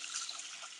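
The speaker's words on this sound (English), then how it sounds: "I'm gonna fill up so many pitchers of water" Water runs from a tap into a pitcher, a soft, steady trickling hiss held close and fairly quiet through the short moment, alone without talk.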